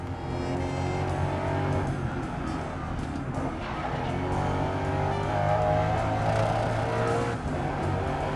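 Race car engine in Grid Legends, a loud continuous revving whine with gear shifts and tire squeal, close and steady throughout.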